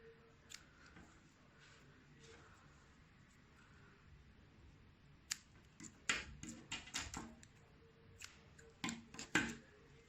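Scissors snip off crochet yarn tails on a handmade crocodile stitch bag, a cluster of quick close dry clicks and snips toward the end after a quieter stretch.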